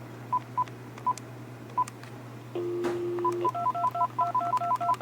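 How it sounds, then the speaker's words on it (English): A Z80-powered credit card machine dialing out over a phone line: a steady hum, sparse dial tone beeps, a held tone, then a rapid run of evenly spaced DTMF keypad tones. "And we'll do the DTMF"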